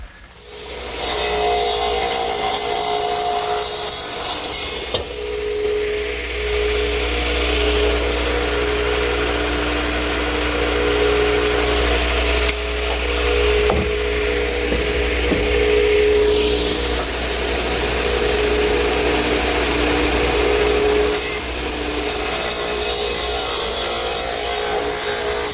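Radial arm saw running and cutting 2x4 lumber in a woodshop, a loud continuous motor whine with a louder bite of the blade into the wood at the start and again near the end.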